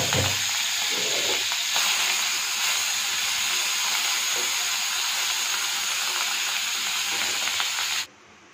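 Fish fries in hot oil with a loud, steady hiss and crackle throughout, then cuts off abruptly near the end; no talking.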